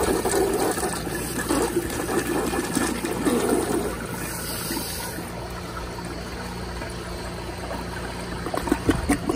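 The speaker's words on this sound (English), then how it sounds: "here's a flush" A 1989 Briggs toilet with a flushometer flushes weakly with a steady rush of water that runs strongly, then thins to a trickle, amid clattering background noise.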